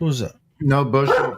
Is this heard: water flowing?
no